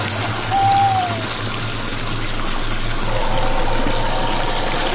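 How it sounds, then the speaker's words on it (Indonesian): Water flowing from one of nine spring spouts, the one with the warm water, at the Sumber Songo spring in Jenggolo, a steady close trickle and splash with a brief whistle-like tone near the start. "Jadi di antara 9 air ini, 9 pancuran ini, airnya yang hangat ada di sini."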